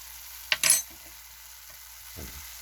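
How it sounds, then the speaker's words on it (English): Ground beef seasoned with salt and pepper being stirred in a hot pan, a short burst of sizzling and scraping near the start, then quieter frying with a brief stir near the end. "I'm just going to stir that all up and let those flavors intermingle with each other and cook them up a little bit."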